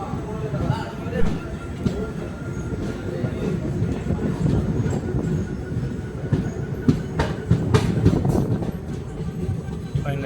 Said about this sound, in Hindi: अभी यहाँ से हमारी ट्रेन रिवर्स मोड में जाएगी अरसीकेरे जंक्शन तक।